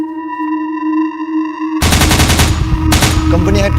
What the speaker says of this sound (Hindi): कंपनी हेडक्वार्टर ने एमएमजी फायरिंग किया।